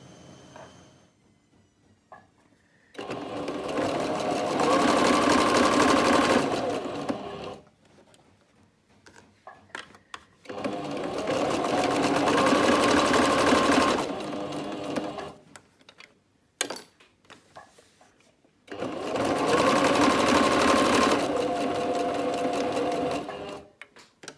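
A sewing machine stitches a rotary cutter bag in three long, steady whirring runs, each several seconds long, with quiet fabric handling in the pauses between.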